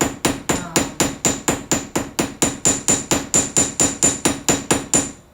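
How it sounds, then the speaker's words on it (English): Jewelry wire is struck with a small hammer in a steady rhythm of about twenty even, sharp metallic taps. The blows are close and loud, with no talk over them. "We can show you a little hammering here."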